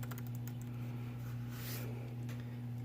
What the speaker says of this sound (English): still very comfortable to type on